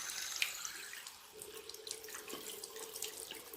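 Water is poured steadily into a tied container, without leaking, during a simple home experiment, making a faint, continuous trickling stream with light splashes and no voices.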